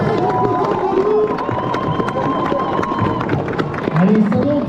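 Spectators at the SainteSprint running race cheer and applaud passing runners in a lively, close crowd din, with someone talking through the noise.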